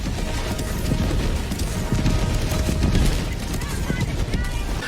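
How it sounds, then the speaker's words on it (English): Helldivers 2 combat blares with dense, continuous gunfire, rapid bursts and booming explosions from rockets and tracers, loud and chaotic throughout, with voices mixed into the din. "Explosions, tracers, and rockets spraying across the skies and fields."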